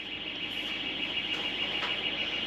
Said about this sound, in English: If you can hear anything, next door's alarm goes off.